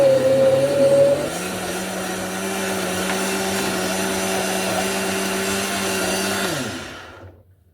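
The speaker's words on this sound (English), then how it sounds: "When I used this one, it started blending." A household blender runs steadily for several seconds with a loud motor whine, its pitch briefly dropping early on before holding level, then winding down and stopping near the end.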